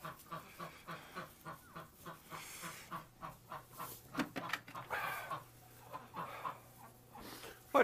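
Ducks quack in a steady, rhythmic series at moderate distance, with a low hum underneath and a few louder honks toward the end.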